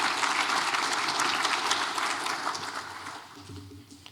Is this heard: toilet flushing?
no